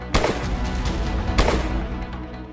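Two rifle shots fired in Bihar ring out loud and close, each a sharp crack with a rolling tail, spaced over a second apart above a steady background noise.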